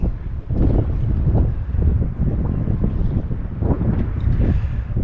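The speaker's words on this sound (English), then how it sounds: "It's a little chilly with the wind out here" Wind buffeting the microphone over the harbor on Frenchman Bay in Bar Harbor, Maine, a loud continuous low rumble with gusty surges and no voices.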